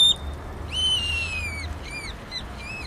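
A bird at night in the Southwest mimicking other sounds, giving a series of clear whistled, swooping electronic-like calls with short pauses, fairly close and loud against quiet background.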